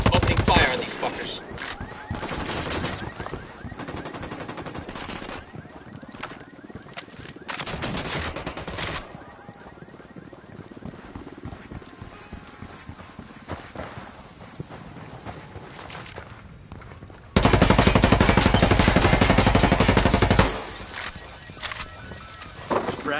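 Gunfire in the video game Ghost Recon Wildlands comes in loud, intermittent bursts and rapid volleys. A sustained heavy stretch of firing near the end stands out over the quieter background ambience.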